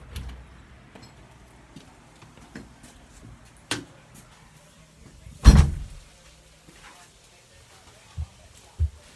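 A house door is opened on returning home, heard as a few soft clicks and knocks and then one louder, close thud midway, with faint handling sounds after.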